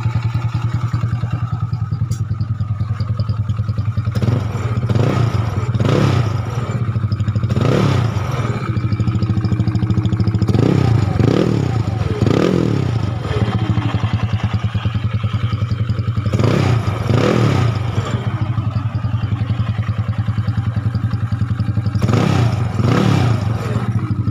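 A Yamaha Nouvo Z scooter engine, bored up and fitted with a new cylinder head, runs rough and loud at night, with steady clattery idle broken by repeated short throttle blips and revs.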